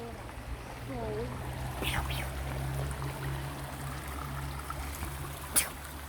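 Creek water runs in a steady low trickle and burble beneath a constant hum, with brief excited voices and a few short sharp sounds near the end.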